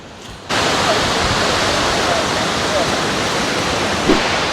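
Skógafoss waterfall in Iceland roars loud and close, a dense unbroken rush of falling water that cuts in abruptly after a brief quiet start.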